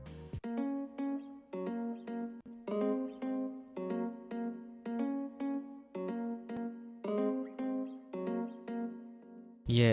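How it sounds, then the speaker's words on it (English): Nylon-string acoustic guitar preset from Hypersonic in FL Studio plays a plucked, repeating phrase of even notes in a steady rhythm, alone, for an Afrobeat track. "It's an acoustic guitar sound."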